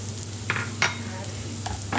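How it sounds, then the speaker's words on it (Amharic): Onions fry in a little oil until well browned, a steady sizzle broken by several brief scrapes and stirs of a utensil against the pan. Nobody talks. "ይሄው ሽንኩርቱ ደርሶልኛል ተቆላልቼ።"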